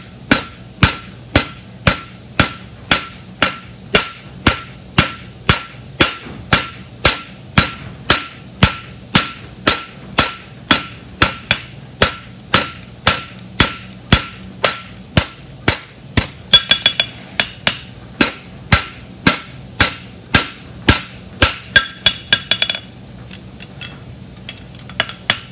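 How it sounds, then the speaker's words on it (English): Sharp hammer blows ring out on metal in a steady, evenly spaced rhythm, dozens of loud close strikes, with a brief scraping clatter near the end. "I'm gonna take my hammer and I'm gonna just start doing some seating on it."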